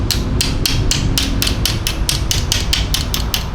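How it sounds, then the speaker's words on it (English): Hammer tapping a cut car part into line during a Toyota Crown auto-to-manual conversion, about fourteen sharp, evenly spaced metallic taps close by, with no talking. "Now I'm just gonna tap it down until we get it lined up."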